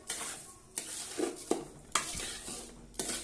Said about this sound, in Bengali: লবণ দিয়ে দিলাম। এবার ভালোভাবে নেড়ে দেবো।